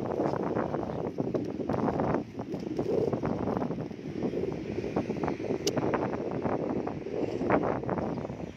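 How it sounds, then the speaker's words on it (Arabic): Strong wind buffets the microphone outdoors in Nador, Morocco, a continuous loud rumbling roar that lasts several seconds with no pause. "فين ما مشينا كاين الريح"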